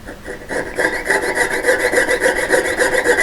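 Rhythmic rasping strokes of a file working a short length of wire clamped in a pin vise for a diamond stud earring, steady back-and-forth scrapes close up with no talking.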